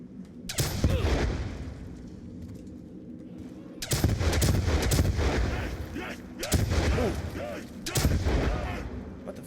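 Video game gunfire in a round of a zombie survival map, heavy bursts of rapid automatic shots in several loud volleys with brief pauses between.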